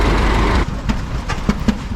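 An old hit-and-miss engine chugs nearby at a steam engine show with irregular, uneven firing pulses, loud and rough, a few spaced thumps standing out over a low rumble.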